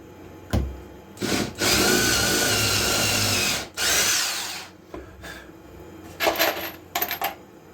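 A power drill drives a screw into a corner of a wooden shredder build, with a sharp tap, then two sustained whirring runs lasting a few seconds each and a short final burst, loud and close, with no talk.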